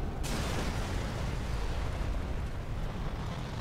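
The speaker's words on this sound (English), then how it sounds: "Oh! Explosion!" An explosion in Sniper Elite 3, during the co-op Siege of Tobruk mission on Xbox One, hits suddenly and leaves a loud, sustained rumbling roar that fills the rest of the moment.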